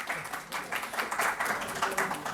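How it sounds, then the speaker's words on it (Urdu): An audience at a mushaira poetry evening at Faletti's Hotel in Lahore applauds, a dense, even patter of many hands clapping for a short stretch with no voices on top. "آپ سب کی بھرپور تالیوں میں جناب عقیل عباس۔"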